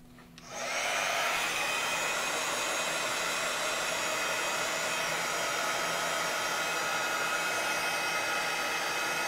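A handheld dryer starts up and blows steadily at close range, loud and unbroken, drying mixed media craft pieces with glue-gun embellishments.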